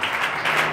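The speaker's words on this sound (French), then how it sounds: "Let's clap hands for the Lord again." Church congregation clapping hands together in praise, a dense steady patter of many palms, fairly loud and continuous with no talk over it.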